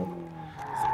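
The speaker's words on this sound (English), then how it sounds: "Down there doing donuts and handbrakes and..." Toyota AE86 Corolla doing donuts and handbrake turns, a sustained tire skid with a steady squealing tone and engine hum, loud and close throughout one second with no talk.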